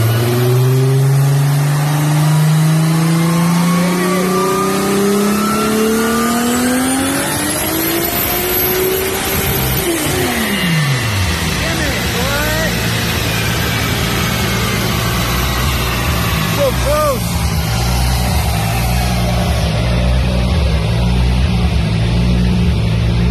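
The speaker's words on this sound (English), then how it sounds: "Spinning on the dyno." A turbocharged VR6 in a Mk2 Volkswagen GTI, making about 700 horsepower, runs hard on a dyno with the rpm sweeping up and its revs dropping after the pull, loud and close with a steady roar throughout.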